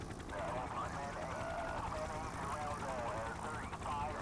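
A helicopter droning steadily in the police game The Precinct, heard as a continuous rotor and engine hum under almost constant talking.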